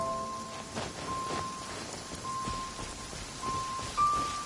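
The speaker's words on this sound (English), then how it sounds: "It's raining again?" Rain falling in the Genshin Impact game world of Inazuma, a soft steady patter of drops with scattered splashes and a few faint rumbles, no voices.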